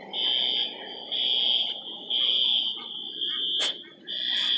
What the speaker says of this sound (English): I cannot go home with this noise! Shut up, fire alarm!